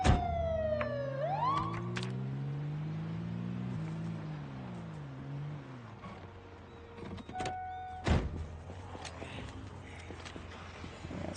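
Wailing emergency siren in the zombie survival game Project Zomboid, sweeping up and down in pitch amid game noise, with sharp effects and a sudden bang later, no talk over it.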